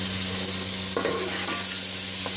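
Whole black pepper and cumin stirred in hot oil for chicken biryani, a steady close sizzle with occasional spoon scrapes across the pan, no voices.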